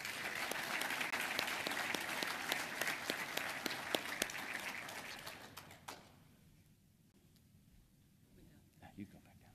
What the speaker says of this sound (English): Ladies and gentlemen, join me in a round of applause